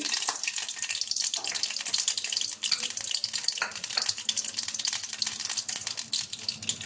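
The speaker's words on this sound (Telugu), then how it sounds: "ముందుగా మనము ఆవాలు వేసుకున్నాము ఆయిల్ హీట్ అయ్యింది" Mustard seeds frying in about 50 ml of heated oil in a kadai, a dense, continuous crackle and spatter of popping that stays loud and close throughout.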